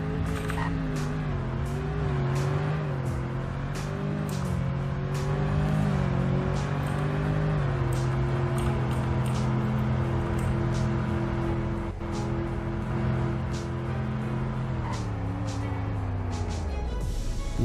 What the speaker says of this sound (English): Here's a 0 to 100 braking test.